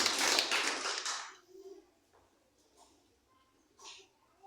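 A church congregation claps for Jesus, a loud dense burst of applause at the start that fades within about a second and a half, followed by faint scattered sounds and brief murmurs.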